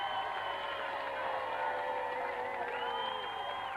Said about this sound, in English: Round of applause then for Daniel, Zen and Duff.